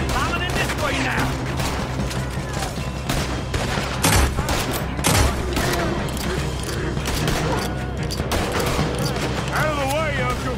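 Gunfire in the Red Dead Redemption II video game, a dense run of shots and booms mixed with mechanical clatter, with in-game voices talking over the steady noisy battle throughout.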